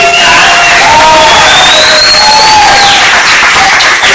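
A live audience at a bar event claps and cheers loudly, dense sustained applause with whoops and shouts filling the whole stretch, no talk over it.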